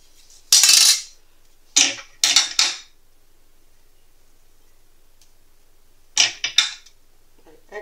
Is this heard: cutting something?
yes